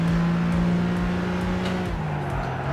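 A BMW M3 race car engine in Gran Turismo 5 drones steadily at high revs, loud and continuous, the pitch holding then dipping slightly as the car shifts, with no voices over it.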